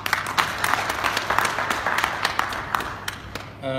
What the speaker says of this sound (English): I think he deserves more applause than this.